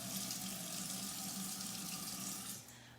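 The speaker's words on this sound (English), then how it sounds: "I'm going to just put a little bit of water on my face." Tap water running steadily into a sink as water is splashed onto a face while washing, a continuous close hiss and splatter that eases off near the end.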